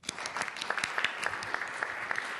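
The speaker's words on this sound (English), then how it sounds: "Can I just give you another round of applause?" Applause from a small crowd, steady clapping that carries on briefly at moderate volume.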